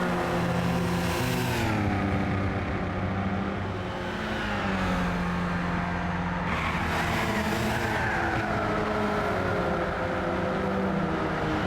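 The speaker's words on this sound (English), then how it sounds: "it sounds exactly like my car, minus the racing engine." A racing car engine in the video game Gran Turismo drones and revs steadily throughout, with its pitch rising and falling as it shifts and accelerates. No voices.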